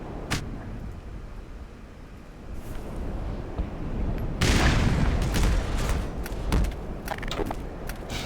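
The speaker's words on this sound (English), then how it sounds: "Maybe I am supposed to throw a grenade up there" A grenade explodes in the video game Black Mesa with a loud, broad boom partway through, surrounded by scattered sharp impacts and background game noise.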